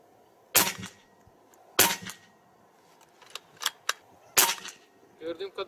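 Sharp shots from a Hatsan Hercules Bully .25 PCP air rifle, three strong cracks spaced about a second or more apart with a few fainter clicks between, followed by brief talk.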